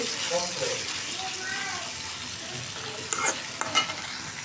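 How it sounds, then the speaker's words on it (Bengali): Roti flatbread fries in a pan in a home kitchen, a soft continuous sizzle with faint scraping, plus a few brief clinks near the end. "এখন আমি রুটিগুলো ভেজে নেব।"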